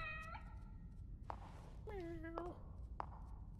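Cat in the horror video game The Evil Within: a few short meows, one drawn out, quiet over a low game ambience with soft thuds.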